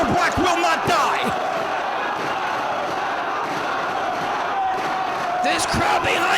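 A wrestling arena crowd roars and cheers continuously as a wrestler gets back to his feet, a dense, loud wall of voices with shouts rising near the start and end.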